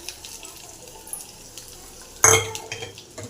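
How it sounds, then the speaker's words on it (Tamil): Vadagam dropped into hot oil for tempering pulicha keerai kadayal gives a sudden loud burst of sizzling and spattering, then fades into softer frying crackle, with faint utensil clinks before it. "எண்ணெய் சூடான தாளிச்சிடலாம். குட்டி மாலி வச்சாச்சு. இப்போ வந்து வடகம் போட்டுடலாம்."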